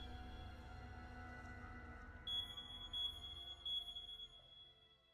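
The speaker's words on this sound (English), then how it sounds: "It's just an alarm." Electronic alarm beeping in a quiet bedroom at night, a few short high-pitched beeps repeating at a steady pace after a stretch of low background hum, clear but fairly quiet.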